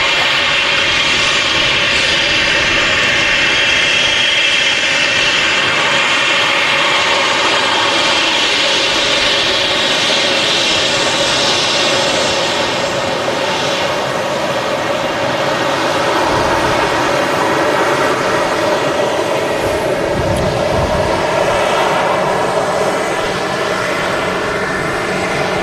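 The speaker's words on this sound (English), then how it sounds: "a lot of aircraft taxiing out now" Aircraft taxi at Manchester Airport with a loud, continuous engine whine and rumble that holds steady throughout, with a slight shift in tone as the planes move.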